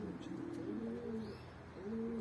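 Pigeons cooing in a loft in Antalya, soft low rolling coos repeated in a few phrases, close by and fairly faint, with a little background chatter of other birds.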